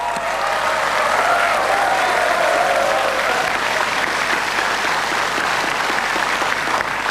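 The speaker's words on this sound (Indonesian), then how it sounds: "Silahkan tepuk tangan." A debate hall audience at the 2014 Indonesian presidential and vice-presidential candidates' debate breaks into sustained loud applause, a thick wash of clapping filling the room throughout.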